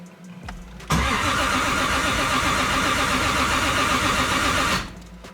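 A built Toyota 1JZ engine swapped into a Nissan 350Z cranks briefly, fires into a loud, steady idle that runs for several seconds, then shuts off.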